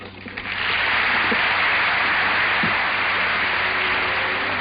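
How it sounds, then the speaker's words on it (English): Broad, steady applause after Lyndon B. Johnson's 1965 speech at the United Nations' 20th anniversary, swelling in within the first second and then holding as an even, loud wash, heard on an old bandwidth-limited recording. "The applause Mr. Johnson's talk receives is but an echo of the hope."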